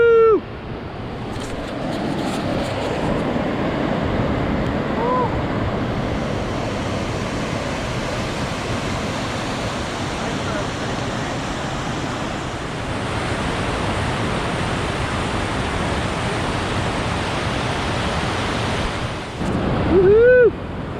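Rushing creek water in a rugged Alaska canyon roars as a broad, continuous wash of noise, loud and close, with wind buffeting the microphone and brief whoops of excitement at the start and end.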